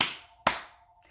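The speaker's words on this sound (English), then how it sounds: "If you're happy and you know it, clap your hands." Two sharp hand claps ring out in quick succession, close and crisp, each decaying into a short echo, with a faint tone held underneath.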